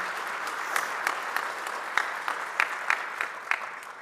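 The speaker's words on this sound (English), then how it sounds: "Please give them a round of applause" A modest audience at a gubernatorial candidate forum claps for the candidates, with distinct individual claps standing out against a smaller crowd's steady applause that fades slightly toward the end.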